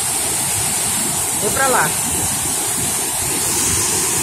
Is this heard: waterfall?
yes